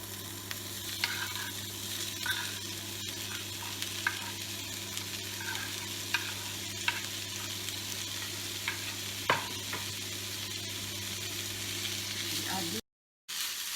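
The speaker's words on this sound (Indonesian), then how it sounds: "kita taruh ayamnya tadi yang sudah dipotong kecil-kecil ya" Small pieces of chicken sizzle steadily in a pan with wilted garlic and onion, a continuous close frying hiss broken by occasional scrapes and clicks of stirring.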